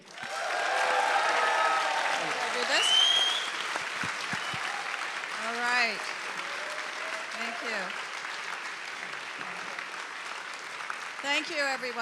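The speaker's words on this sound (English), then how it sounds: "Please give a big round of applause to Bonnie Castillo" A crowd at a political rally claps in sustained applause that swells early and slowly tapers, with cheers and a voice heard over the clapping.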